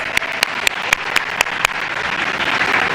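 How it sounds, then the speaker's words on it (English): Audience applause during a vice president's speech on an economic opportunity tour: a dense, steady wash of clapping that grows slightly fuller over three seconds, with sharp claps standing out near the start. "that deserves some applause"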